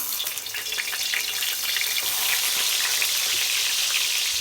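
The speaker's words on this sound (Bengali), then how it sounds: "আমি সিম তেলে দেওয়ার আগে বেগুন ভেজে নেব" Eggplant pieces fry in hot oil in a wok, a constant crackling sizzle that stays loud and even throughout, heard alone without talking.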